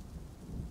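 Game thunderstorm from Dwarf Fortress: a steady low rumble of thunder with rain noise, swelling slightly toward the end, heard alone at a moderate, even level.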